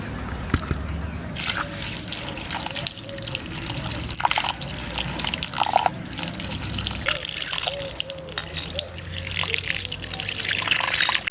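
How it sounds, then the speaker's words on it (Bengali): Small fish for a Bengali macher pathuri dish being washed under a running kitchen tap: steady splashing and trickling water with intermittent drips and handling noises, close and continuous. "মাছগুলো আমি এখন পরিষ্কার করে ধুয়ে নিচ্ছি"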